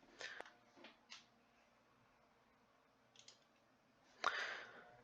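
Mouse clicks on a sign-up button on a computer, a few soft, quiet clicks spread out over several seconds, followed by one sharper, louder click near the end.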